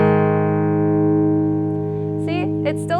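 A single guitar chord rings out and sustains, with several faint plucks or string noises near the end.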